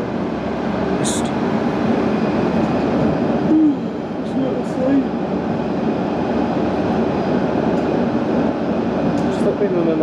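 Steady low rumble inside a moving London Underground train carriage near Chesham, with constant rolling noise and a few faint high squeaks and clicks.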